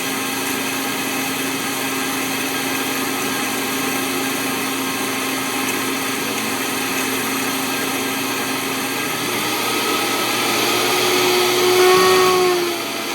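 A home grinder mills corn into cornmeal on a second pass, a steady loud motor whine with a droning hum that holds for the whole stretch and swells slightly near the end.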